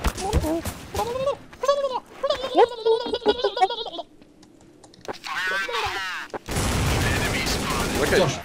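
Rapid pistol gunfire in a video game, bursts of sharp shots mixed with excited speech and game effects, ending in a dense noisy stretch of firing.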